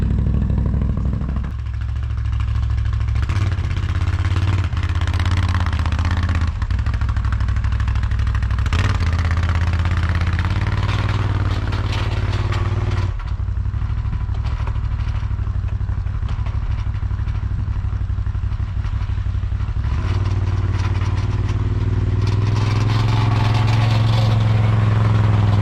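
Can-Am ATV engine running steadily under load while plowing snow in a driveway, a continuous close, loud mid-pitched drone with clattering and slight revving changes throughout.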